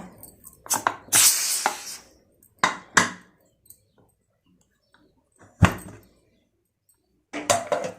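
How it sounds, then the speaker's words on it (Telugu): A pressure cooker lid is worked open after cooking dal, with a scattered series of sharp metallic clacks, twists and knocks separated by silent pauses, close and fairly loud. "సో ఇప్పుడు తీద్దాం మూత"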